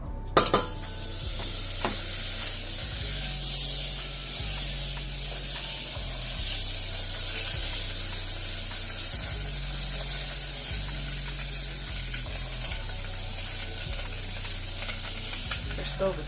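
Butter sizzling in a hot pan on a high stove for a roux, a continuous close hissing crackle with a low hum pulsing underneath, steady throughout the stretch.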